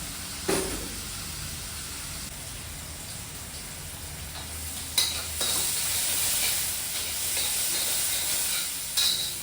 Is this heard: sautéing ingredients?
yes